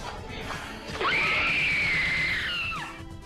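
A Disneyland employee lets out a long, shrill, sustained scream during America Sings show footage, rising sharply and holding for about two seconds before breaking off, loud over a murky room background.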